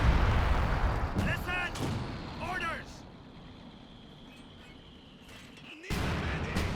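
Mortar fire in the Company of Heroes 2 game during a 2v2 match, heavy booming shots with a rumbling tail and short whistling bursts, fairly near, with a voice talking over the battle.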